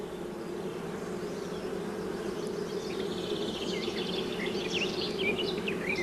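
Honeybees buzz steadily from an opened hive with a comb lifted from the centre of a closely packed brood nest, a dense continuous drone close by with no voices.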